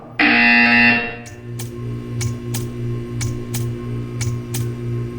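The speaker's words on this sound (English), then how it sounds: "You will hear a buzzer. When you hear the buzzer, stare at the art." Portal 2 game audio: a loud sustained buzzer sounds for about a second, followed by a rapid series of sharp ticking clicks over a low electrical hum.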